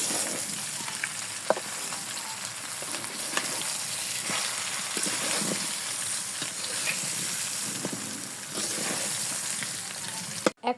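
Mango pickle sizzles and hisses steadily in a hot pan while being stirred, with a continuous frying crackle and occasional soft scraping clicks, heard alone at close range.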